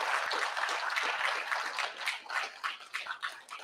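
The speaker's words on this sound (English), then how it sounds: "give a big round of applause to this wonderful group" An audience at a reunion gathering claps in steady applause, dense and continuous at first, then thinning into scattered, more distinct hand claps as it tapers off.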